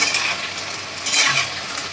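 Food sizzles and fries in a pan while a utensil stirs and scrapes through it, a close, steady hiss with a brief swell of scraping near the end.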